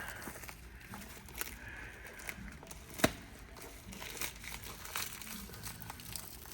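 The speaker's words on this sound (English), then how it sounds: "It's like unwrapping a present. It's definitely well packed." Cardboard parcel being unwrapped, packing for an auto parts box: soft, continuous crinkling and rustling of paper with scattered small crackles and one sharp tear-like snap midway, fairly quiet.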